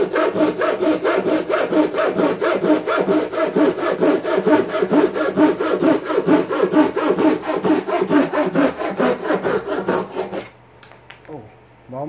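A hand saw guided by a jig rasps rapidly back and forth through wood in quick, even strokes, close and loud, stopping near the end with a few quiet scrapes.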